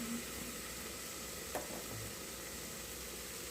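Onions sautéing in a pan give off a soft, even, fairly quiet sizzle, with one brief clink of a utensil partway through and no voices.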